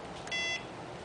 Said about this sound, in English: you're going to hear that beeping noise out on the field when there's nothing in there